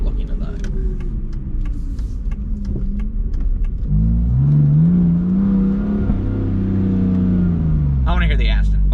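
An Aston Martin V8 Vantage engine rumbles, then rises into a deep revving growl as the car accelerates on mountain roads, with people talking over it.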